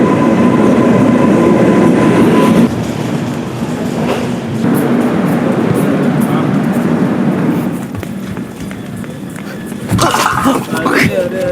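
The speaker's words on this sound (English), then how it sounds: "So our train has come." A train pulls into an Indian railway station on the route to Ahmedabad with a loud rumbling, screeching rush and rattling carriages. The station din and clatter rise and fall, and people talk over it.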